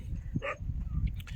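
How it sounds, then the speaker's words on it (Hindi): A dog gives a short bark or yelp in a village street, one brief burst over low background rumble and murmur. "कुत्ते भौंक रहे हैं"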